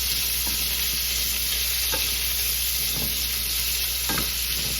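An omelette frying and sizzling in a pan in a home kitchen, a steady loud hiss throughout with a few soft scraping stirs.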